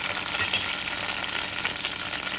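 Food sizzling loudly and continuously in a pan as it browns, a dense close hiss with faint stirring movements and no voices.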